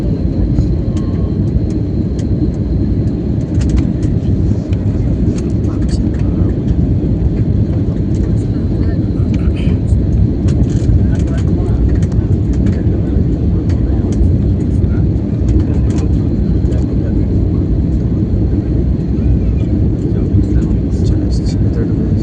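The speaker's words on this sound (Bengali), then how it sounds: "এরোপ্লেন নামছে নামছে নামছে।" A landing airplane gives off a loud, steady, broadband roar that holds evenly throughout, with muffled voices underneath.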